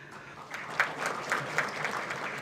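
Audience applause at an Indian civil services event honoring a top UPSC candidate, a steady wash of many hands clapping at moderate distance with a few louder bursts.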